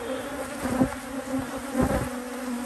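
Angry honey bees at a hive buzz in a close, continuous drone, swelling slightly in two brief surges with no voices.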